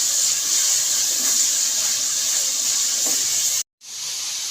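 Potato and onion curry frying in a pan gives a steady loud sizzling hiss that runs unbroken, then cuts out abruptly and returns more quietly.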